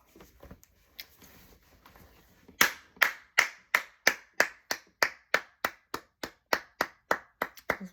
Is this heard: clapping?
yes